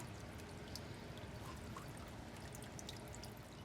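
Water pours steadily from a tap over a small pot being rinsed, a continuous splashing trickle that stays even and fairly close throughout.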